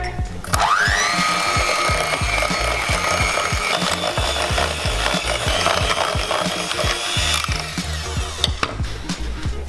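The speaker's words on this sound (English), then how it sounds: "Now we're going to add our egg and beat for another 2 minutes or so." An electric mixer beats an egg into a sugar mixture for a strawberry trifle, its motor whining steadily with a rising pitch at the start while the beaters rattle and knock against the bowl, close and continuous.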